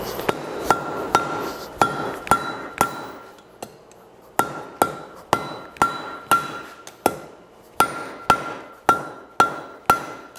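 Steel is forge welded at an anvil, the hammer striking in a steady series of sharp, ringing blows with a short pause midway, loud and close with no talk over it.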